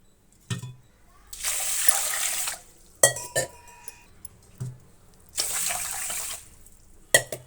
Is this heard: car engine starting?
no